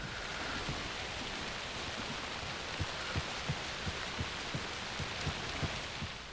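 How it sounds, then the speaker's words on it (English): A steady hiss of rain plays on and on as a glitching sound effect in the video game Alan Wake 2, with a soft, regular low thumping like footsteps running beneath the wash. "this part of the game for some reason glitched into constantly playing a rain sound effect despite no rain being visible"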